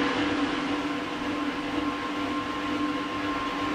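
A Wattbike spun at a high cadence of about 120 RPM gives off a steady, continuous whirring drone. It holds the same level with no breaks and no talking.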